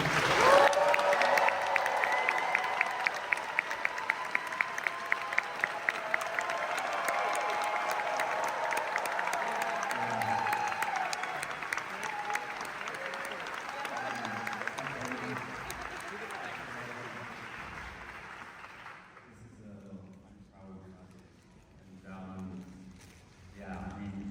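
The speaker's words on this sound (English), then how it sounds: "please give a huge round of applause for the director of Pillion, Harry Lighton, and star Harry Melling." Audience applause at a film premiere as the director and star are welcomed: loud, sustained clapping with some cheering for around twenty seconds, then fading out while people begin talking.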